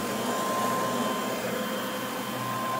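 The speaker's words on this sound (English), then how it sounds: "now let's use our vacuum." A brand-new Hoover commercial vacuum cleaner runs close by, sucking up sand with a loud, steady motor whine and airflow roar that holds constant with no talking.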